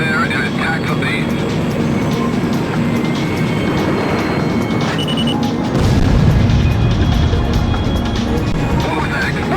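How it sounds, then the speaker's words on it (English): Explosion in the video game Ace Combat X: a deep, loud boom surges up midway through a constant roar of jet engines, close and heavy, then the rumble carries on. "What was that explosion just now?"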